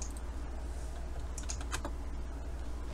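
Steady typing on a computer keyboard, a run of quick close clicks over a constant low background hum, with no talking.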